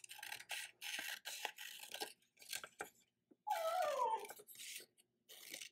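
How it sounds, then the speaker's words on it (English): A puppy whimpers and whines in short repeated cries, with one longer falling whine in the middle, faint and somewhat distant, with no talking. "You can hear my puppy crying in the background."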